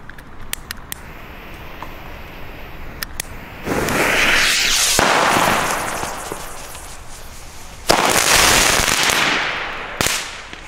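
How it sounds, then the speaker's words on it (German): A Pyroland Crackling Beam firework salute filled with crackling stars instead of black powder: scattered sharp pops first, then two long, loud bursts of dense crackling, each dying away, with a final sharp snap near the end. "das ist also ein neuartiger Kanonenschlag von Pyroland. Crackling Beam, hier ist kein Schwarzpulver enthalten"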